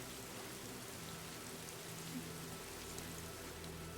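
Steady rain falls in Fire Emblem Three Houses, a dense, even hiss that holds without a break from start to finish, with no voices over it.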